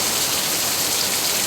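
Heavy rain pours down steadily during a stormy spell, a dense, continuous hiss of drops hitting surfaces with no voices over it.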